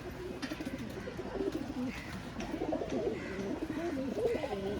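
Homer pigeons coo steadily in a seller's loft, their low rolling calls overlapping one another continuously at close range with no voices.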